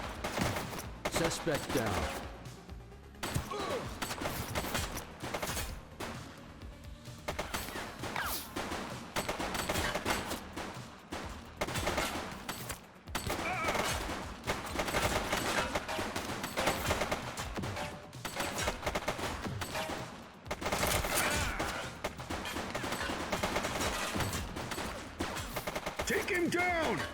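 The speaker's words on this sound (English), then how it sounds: "Shots fired!" Gunfire from a shootout in the police video game The Precinct, with dense bursts of shots and automatic fire rattling almost continuously and loudly throughout, brief voices calling out between the volleys.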